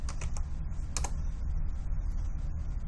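Rapid clicks of fingers typing on a computer keyboard, close and steady, with a few sharper key strikes early on and a low background hum.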